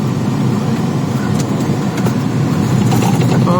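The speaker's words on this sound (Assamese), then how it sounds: "ট্ৰাকখন আহি আছে আৰামছে" A truck on the road approaches steadily, its engine a loud, continuous broadband rumble throughout, rising slightly near the end, heard alone without speech.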